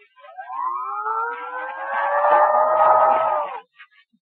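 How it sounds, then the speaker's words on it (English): A vacuum cleaner sound effect for a radio comedy, set in a little frame house: a rising, droning whine that swells and holds steady for about three seconds, then cuts off abruptly. "The next sound you hear will be a vacuum cleaner in a little frame house"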